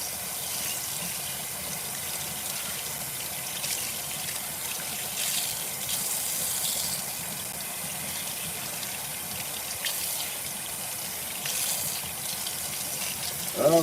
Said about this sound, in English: Now I'm just going to rinse her hair out. Same as I did with the shampoo.